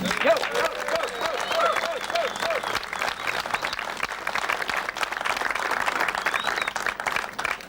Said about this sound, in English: I'd like to give him a big hand of applause